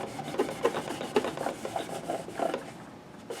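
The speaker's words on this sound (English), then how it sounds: "you kind of wipe it on, wipe it off, and you're done" A cloth spreads and wipes silicone-free lemon oil over a Gibson Custom Shop 335 guitar, giving soft, steady rubbing strokes with a faint raspy texture, close and fairly quiet.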